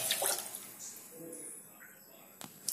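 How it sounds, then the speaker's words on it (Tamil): Water poured from a vessel over rice in a pot to soak it for coconut milk rice, a splashing, trickling pour that fades and ends with a brief clink. "அரிசி தண்ணி மூழ்கிற அளவுக்கு தேவையான அளவுக்கு தண்ணி விட்டு அரிசி ஊற வச்சுக்கலாம்"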